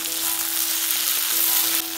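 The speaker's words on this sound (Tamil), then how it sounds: "இதை நல்லா வதக்கி விட்டுக்கலாம்" Steady sizzling of onion and tomato sautéing in a pan, a continuous hiss with a faint tonal hum underneath.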